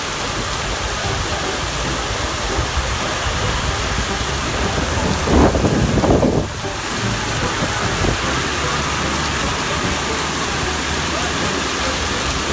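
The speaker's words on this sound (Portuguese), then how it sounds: "a chuva tá forte aqui em Barueri, hein? Meu Jesus! Forte mesmo!" A heavy rainstorm pours down in Barueri with strong wind, a loud dense roar that holds steady throughout, with a brief louder gust or rumble near the middle.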